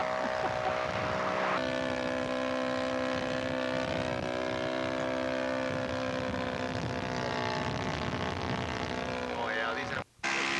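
Radio-controlled scale model aircraft taking off at a scale aircraft show, a steady droning engine whine with rising and falling pitch, loud and continuous over outdoor noise, with people talking nearby.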